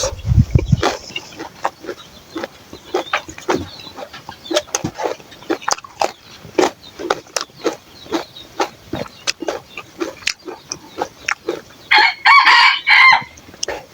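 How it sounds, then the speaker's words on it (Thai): A red junglefowl crows repeatedly outdoors in a rural garden with cassava plants, the calls rising clearly among sparse clucks and small rustles, with no talking. "ไก่ป่าได้ขัน"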